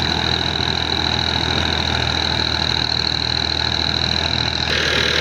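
A 1979 Ford 3600 tractor engine runs steadily with a rotavator attached, giving a constant, close mechanical drone with a high whine and no talking.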